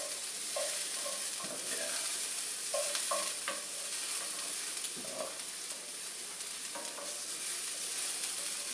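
Onions sizzling in a very hot pan with a steady frying hiss, broken by repeated scraping stirs of a utensil against the pan; a voice briefly speaks.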